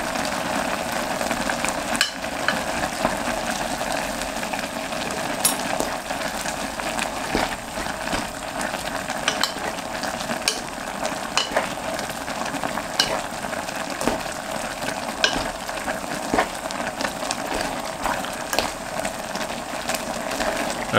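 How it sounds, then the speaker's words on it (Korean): Peanut butter stirred into ramen simmering over medium heat, a dense steady bubbling hiss with light scraping and occasional soft knocks of a utensil against the pot, close and continuous, no voices. "이렇게 땅콩버터를 잘 풀어주면 땅라면이 완성되었습니다."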